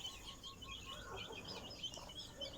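Newborn chicks put out in the sun peep and cheep in quick, overlapping bursts alongside clucking from a nearby hen, with a steady bed of background noise underneath.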